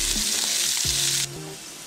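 Hot oil sizzles steadily with a bright, crackling hiss as green chili fries in a tempering, dropping slightly in intensity partway through, close by.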